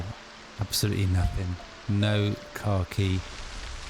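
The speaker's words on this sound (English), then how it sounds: "this persistent, constant, heavy rain" Heavy, constant rain from the game Project Zomboid hisses as a steady broadband wash throughout, sitting beneath a man's speech that comes in several bursts.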